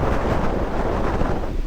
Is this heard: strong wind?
yes